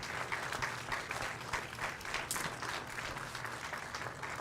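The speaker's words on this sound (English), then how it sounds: "And how about another round of applause for Larry and Anne-Marie and Josh and Tim" An audience applauds after a Kansas City Symphony performance, giving steady, moderately loud clapping that carries on evenly throughout.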